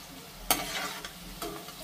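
Pieces of sweet maida dough frying in hot oil, a continuous close sizzle broken by a couple of sharp stirring or splashing bursts, with no talk.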